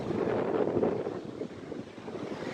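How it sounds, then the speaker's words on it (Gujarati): Wind and sea waves on the seashore at Dwarka, a steady blustery roar of wind buffeting the microphone over the rush of surf, louder early then easing slightly; no speech. "બસ તો હવે અમે થોડી વાર અહીંયા દરિયા કિનારે મજા કરીશું."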